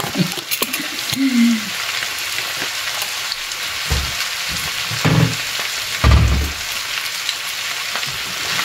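Sugar caramelizes in a pan over a raised stove flame while chicken adobo is being cooked, giving a steady close sizzle and bubbling with a few brief clanks and stirring knocks.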